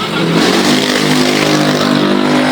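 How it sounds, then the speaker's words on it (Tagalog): Motorcycles roar past on a road beside an outdoor meal under a balete tree, a loud, continuous engine drone with a rising rev that stays close and dominant throughout. "Ingay-ingay pa ng mga motor dito."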